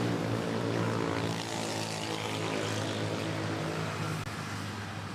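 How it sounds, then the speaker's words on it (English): A Boeing 787 Dreamliner at Manila Airport roars loudly and steadily with a broad, sustained engine rumble and rush, close and unbroken throughout. "Okay, let's catch this Dreamliner."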